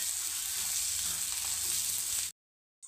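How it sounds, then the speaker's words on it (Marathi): Onion chutney sizzling in a pan as chopped coriander is stirred in, a loud steady frying hiss that cuts off abruptly near the end before briefly resuming. "आता कोथिंबीर टाकून घेऊ, थोडंसं परतवून घेऊ व्यवस्थित।"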